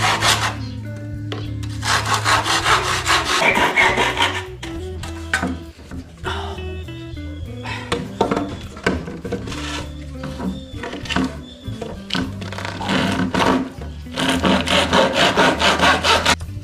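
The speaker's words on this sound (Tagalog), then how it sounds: "Lagariin muna natin yung mga dulo nito para pumantay at magandang tingnan." A hand saw cuts through the ends of dry bamboo in close, loud bursts of rapid rasping strokes, broken by short pauses, knocks and handling noise.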